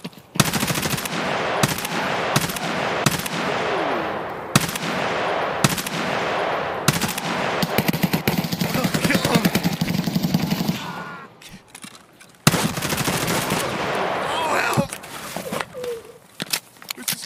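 Bursts of automatic gunfire in Escape from Tarkov, loud and close, with rapid repeated shots in clusters, a brief lull near the end, then more firing, while a player talks over it.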